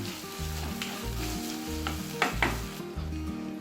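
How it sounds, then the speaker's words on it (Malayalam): Chopped onion sautés in a pan for Kerala-style prawn biryani, a dense close sizzle with scraping stirs and a couple of louder clinks, under steady background music. "എന്നിട്ട് ഇതിൻ്റെ അകത്തൊന്ന് വഴറ്റിയെടുക്കാം"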